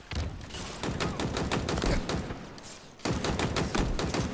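Sustained automatic gunfire from Halo Infinite, a dense loud burst of rapid shots that stops briefly near the three-second mark and then resumes just as hard.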